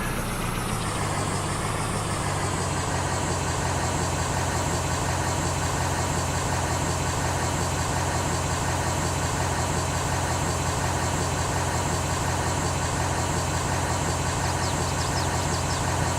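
A tractor engine idles in the video game Farming Simulator 22, a steady droning rumble with a slight settling in the first couple of seconds, then constant and even throughout.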